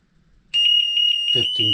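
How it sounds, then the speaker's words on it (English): A loud, steady high-pitched electronic beeping from a door-open-too-long alarm on a three-door interlock system starts abruptly and keeps pulsing, with a voice beginning to speak beneath it near the end. "alarm goes off, close the door, and the system resets"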